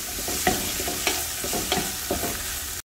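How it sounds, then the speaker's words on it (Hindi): Capsicum being lightly sautéed in a pan, a steady close sizzle with a spatula scraping and stirring in regular strokes roughly every half second, no voices. "देन इसमें मैं ऐड करूंगी कैप्सिकम इसको भी हल्का सा हम लोग भून लेंगे"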